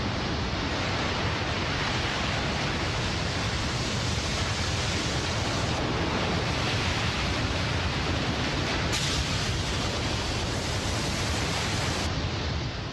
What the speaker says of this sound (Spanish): Enormes olas asesinas de una fuerza inimaginable